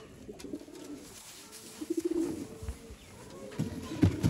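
Sialkoti pigeons coo softly nearby in short bursts, with a few low, throaty rolls against a quiet background of faint rustling.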